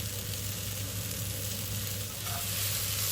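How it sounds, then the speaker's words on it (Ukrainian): Carrots and onion fry in a pan while being stirred, giving a dense, continuous close sizzle with a low steady hum underneath. "Перемішуємо нашу моркву з цибулею, солимо, перчимо"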